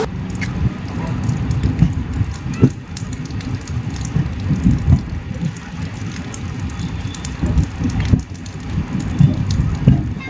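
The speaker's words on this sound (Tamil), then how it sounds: "நல்ல மழை பெய்யுது." Steady rain falls on a moving express train from Chennai Central to Bodinayakanur, a dense, continuous hiss and patter mixed with low rumbling from the running train, loud and unbroken throughout.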